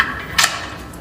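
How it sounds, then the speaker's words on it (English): A torque wrench gives one short sharp click while tightening wheel lug nuts during a wheel spacer install, close and brief against a quiet background. "And now we hit it with the torque wrench,"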